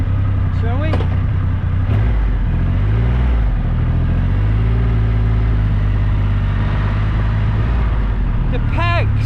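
A Triumph Rocket 3 Storm motorcycle engine revved in neutral against its rev limiter: a close, loud rumble that rises and falls in short blips, with a voice briefly heard at the start and end.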